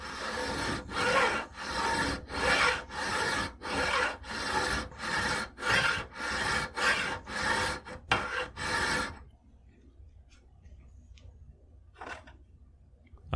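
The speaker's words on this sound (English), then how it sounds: "I'm mostly pressing down with the file." Metal file rasping on a revolver loading gate for a Belgian pinfire revolver, about a dozen loud, rhythmic strokes in steady succession, then quiet with a faint brief rub near the end.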